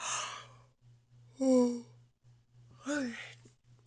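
A long drawn-out yawn with a breathy, descending voiced tone, followed by a second shorter yawn, over a faint steady hum.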